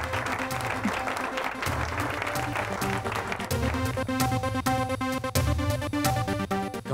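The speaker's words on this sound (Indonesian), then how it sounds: "Ayo semua berikan tepuk tangan yang meriah untuknya." A crowd applauds during a wedding scene in an Indian drama serial, clapping mixed with music and a beat, fairly loud and continuous for several seconds.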